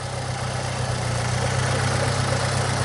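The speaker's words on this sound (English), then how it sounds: "No leaks underneath. That's a good start. Idling nicely." A car engine idles steadily with a low, even rumble and a faint mechanical hum, close by and unchanging throughout.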